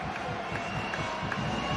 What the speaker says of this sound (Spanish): Y aplaude el pabellón.